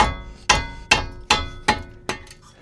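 Hammer taps on a brake caliper bolt of a 1998–2002 Toyota Corolla, five sharp metallic strikes in an even rhythm, close and clear with ringing decay between blows.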